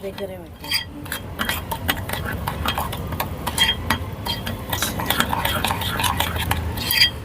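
A spoon stirs a sugar and cocoa powder mixture in a bowl, scraping and clinking in quick, repeated strokes that grow busier toward the end, heard close up with no talking.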